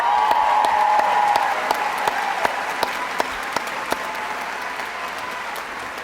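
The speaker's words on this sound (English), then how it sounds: "Give them a hand of applause." Steady, dense audience applause for graduates at an evening of recognition ceremony, a full roomful of clapping that holds throughout with a slight taper toward the end.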